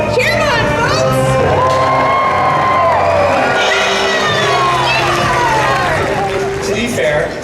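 A large crowd cheers and whoops loudly and continuously, with children shouting and excited voices rising over one another throughout.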